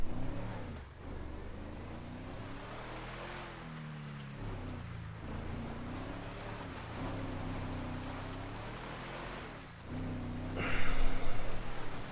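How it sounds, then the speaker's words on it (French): A vehicle engine in GTA roleplay making a rough, unhealthy noise, a loud droning hum with wavering pitch that dips and rises, sustained for the whole stretch, with a brief louder burst near the end. "Oh, il fait un sale bruit ce véhicule."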